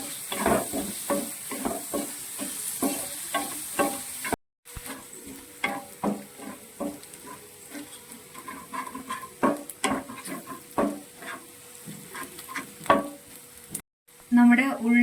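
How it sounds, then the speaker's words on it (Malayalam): Onions sauté in a pan for fish pollichathu, a soft continuous sizzle broken by repeated scraping strokes of a spoon stirring, with two short silent gaps. "നമ്മുടെ ഉള്ളി ഇതെല്ലാം വഴണ്ടിട്ടുണ്ട് നന്നായിട്ട്."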